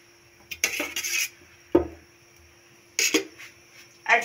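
Bread dough being mixed with desi ghee in a bowl, heard as a few separate bursts of scraping and clattering against the bowl, with quiet gaps between them.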